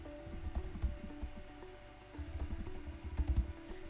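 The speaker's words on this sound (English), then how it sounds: "I'm gonna type in that Apple ID" Keystrokes on a computer keyboard entering an Apple ID, quiet irregular clicks in short clusters with a brief pause midway, over faint low room hum.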